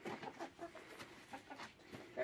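A hen brought to a newly built chicken coop clucks in a quick run of short soft calls, close by and fairly quiet, with no talk over it.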